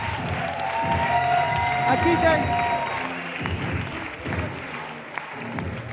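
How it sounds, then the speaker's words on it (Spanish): A live crowd at a roast battle event claps and cheers for the two fighters, steady applause and crowd noise running under a nearby voice that speaks briefly. "Fort aplaudiment per aquests dos cracs."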